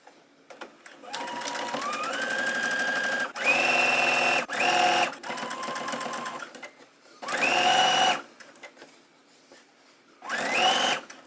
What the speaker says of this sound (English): I'm gonna understitch that seam allowance to the back side here